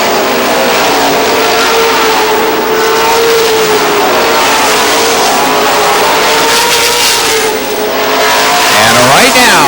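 Race cars roar loudly around the track at Lee Speedway in New Hampshire, a dense continuous engine drone with shifting pitches that climbs near the end as a car passes close.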